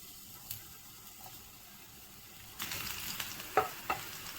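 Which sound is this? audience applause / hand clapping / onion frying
onion frying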